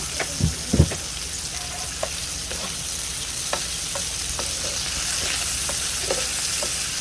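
Menudo meat sizzles steadily in a hot pan, with a constant close frying hiss and a few scraping stirs near the start.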